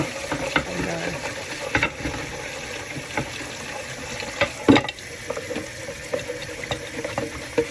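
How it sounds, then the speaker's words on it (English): Dishes being washed in a cluttered kitchen sink under a running tap: steady water flow with scattered clinks and knocks of dishware, close up, and no one talking. "I am back doing dishes again"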